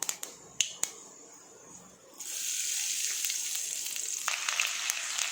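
Asafoetida hitting hot oil for a roasted brinjal thokku: a few sharp crackles and pops, then a steady, close hiss of frying that holds to the end with small spits.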